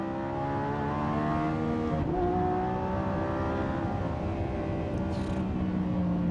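A high-powered sports car engine climbs steadily through its revs on a race track near 140 mph, a loud continuous close roar with rising harmonic tones, no talk heard.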